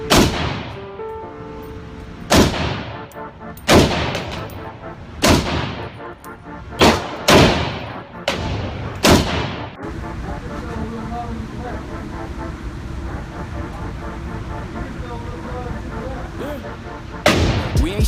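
A Draco AK47 pistol fires at a shooting range in loud, irregularly spaced single shots over about nine seconds. Music with singing then takes over, and one more shot cracks near the end.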